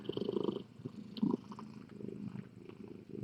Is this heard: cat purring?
yes